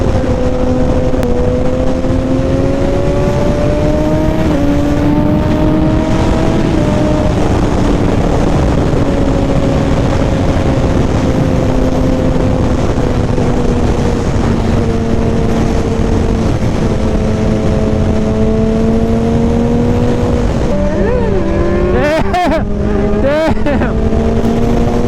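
Kawasaki Ninja ZX6R and Suzuki GSXR 600 sport bikes ride on cold roads with wheelies, engines droning steadily up close and shifting pitch through gear changes, with a brief revving burst near the end under wind noise.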